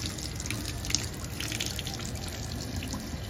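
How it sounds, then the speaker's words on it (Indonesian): Water poured and splashed over a dirty Ondel-Ondel mask being washed, a steady close trickle and splatter with brief drips, continuous throughout and without talk. "Kita siram lagi, kita siram."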